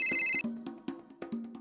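A phone ringtone trills in a repeated electronic pattern, then stops, followed by soft clicks and tapping in a quiet indoor setting of a Marathi TV serial scene.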